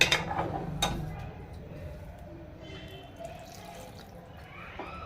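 Water is poured into a Telangana-style fish curry (chepala pulusu) in a pot, a short splash at the start that fades into a quiet, steady background.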